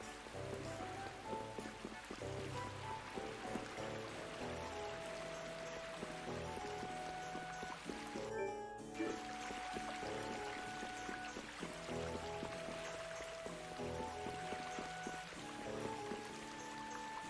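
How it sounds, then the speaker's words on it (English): In the video game Tales of Vesperia, soft rain patters steadily beneath a quiet layer of tonal background music, with one brief sharper burst in the middle. "right now it's raining"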